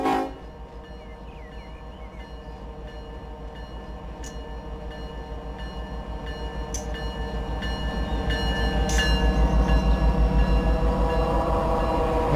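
A freight train in the Run 8 railroad simulator rumbles along, its low engine drone building steadily louder over several seconds with a constant tonal whine and faint rail clicks.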